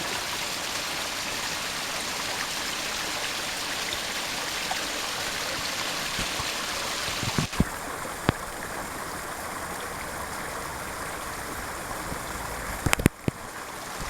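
Crystal clear creek flowing at a cloister in a quiet natural setting, a steady close babble and rush of water throughout, with a few faint clicks and taps near the end.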